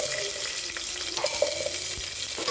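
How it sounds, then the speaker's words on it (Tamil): Cinnamon, fennel, cloves and onion frying in hot oil for brinjal biryani: a steady, close, dense sizzle that holds evenly throughout with faint stirring scrapes and no voices. "எண்ணெய் காஞ்ச எல்லாத்தையும் போட்டுக்கலாம் பட்டை சோம்பு கிராம்பு வெங்காயம் போட்டுக்கலாம்"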